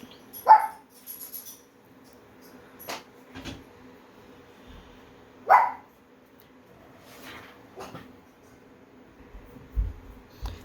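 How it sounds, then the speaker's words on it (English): Dogs bark indoors in short, separate bursts spaced several seconds apart, the two strongest barks sharp and fairly close, with faint whimpering and quiet gaps in between. "My dogs do not bark until I start recording."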